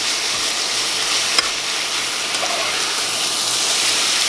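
Biscuits and gravy cooking on high heat in a pan, a steady close sizzle with faint stirring scrapes and one brief clink, no voices.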